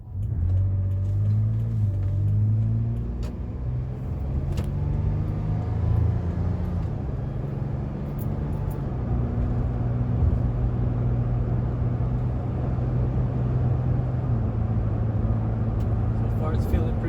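Toyota FJ Cruiser cruising at speed on an open road, a steady low engine and road rumble droning throughout with slight shifts in pitch, while a person talks over it.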